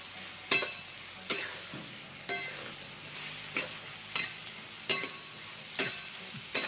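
Chilli powder and spices are stirred in a frying pan, a spatula scraping in regular strokes about once a second over a continuous soft sizzle, close and clear with no voices.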